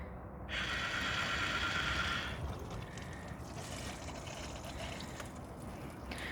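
Water gushes steadily from a garden irrigation pipe fed by a drum, with a louder burst of hissing flow early on that settles into a softer continuous trickle.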